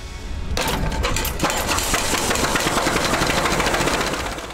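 A vintage prairie tractor engine runs loudly and close, a rough rumbling mechanical roar with rapid knocking pulses that starts after a brief lower idle and holds steady to the end.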